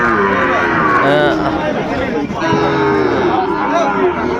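Sahiwal bull calves moo loudly and repeatedly at a busy cattle market, their calls overlapping with crowd chatter and nearby voices.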